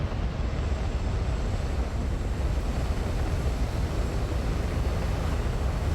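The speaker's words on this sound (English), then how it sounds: "I think my sound effects for my engines are stuck on." Steady low rumbling drone of spaceship engines stuck on in the video game Starfield, a continuous broadband roar with no breaks or talk.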